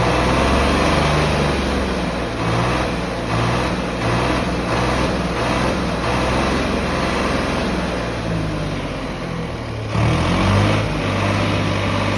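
Tractor with a modified fuel pump, rated around 70 hp, idling outdoors with a loud, steady diesel drone and rough throbbing pulses, rising briefly near the end.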